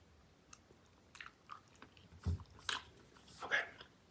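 Original Bazooka bubble gum chewed close to the mic, with scattered soft, wet smacks and a few louder squishy bites spaced irregularly over a quiet background.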